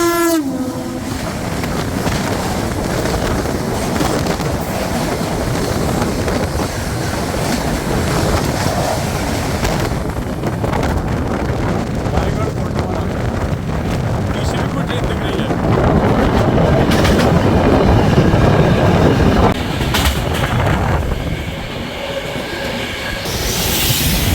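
Intercity Express 20452 running on Indian rails while overtaking the Raigarh–Hazrat Nizamuddin Gondwana Express: a loud, steady rumble and clatter of wheels that swells around the middle, with squeals and a sharper burst near the end.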